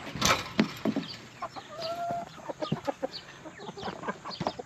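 Several chickens cluck and chatter steadily in a backyard chicken run on a dairy goat farm, close and lively with overlapping calls and no talk.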